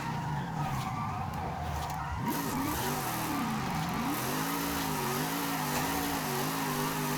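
Donut drift car in Forza Horizon revving hard near redline, a steady loud engine drone with wavering pitch sweeps as the car slides and shifts, tire noise underneath, no talk.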